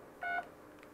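A single short DTMF dialing tone from a GSM phone patch repeater controller sounds clearly over a faint background hiss, with a fainter second blip just after.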